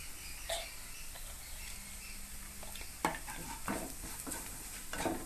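A frying mixture seasoned with salt and pepper sizzles softly in a pan while a spoon stirs it, giving several distinct scraping strokes over the low hiss.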